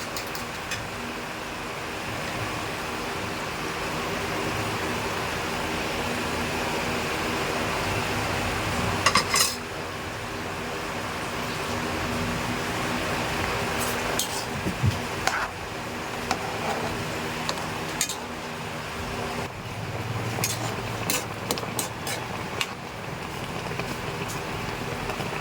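Egg is stirred into a boiling sarciado stew of alumahan fish in a pan, with faint simmering and scattered clinks of a utensil against the pan over a low background hum.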